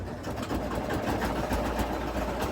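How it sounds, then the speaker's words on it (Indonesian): A grinding machine runs steadily in a cassava cracker workshop in West Sumatra, a low, even mechanical drone with a faint rapid rattle, moderately quiet and with no speech. "setelah mesin dihidupkan, ini akan melakukan proses penggilingan."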